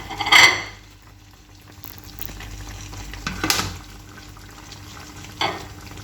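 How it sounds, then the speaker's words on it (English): Beef strips go into a pan of coconut milk: a sharp clatter opens, then soft bubbling and stirring continue, broken by a couple of later utensil clinks against the pan, with no talking. "I'm going to add some beef strips"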